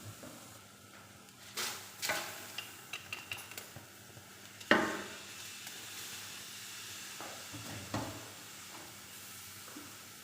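Washed rice and red lentils being fried in a pot for bhuna khichuri: a soft, quiet sizzle with scattered scraping stirs and one sharper clank midway, no talking.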